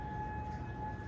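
Air raid siren sounding during a missile attack in Kuwait, a steady sustained wail, faint and distant, heard alone for a brief moment.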